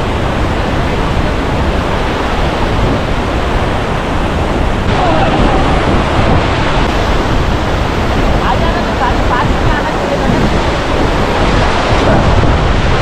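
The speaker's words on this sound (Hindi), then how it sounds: "देखो यहाँ पे वाटरफॉल है" Hiradpada waterfall in Jawhar pours in a loud, continuous roaring rush of water, close and steady throughout, with a faint voice barely audible beneath it.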